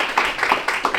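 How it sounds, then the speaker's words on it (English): A small crowd claps a short round of applause for a woman being honored at a boxing and combat sports celebration in Oklahoma, steady close hand claps in a brief burst. "let's go ahead and give Ms. Rhonda a round of applause"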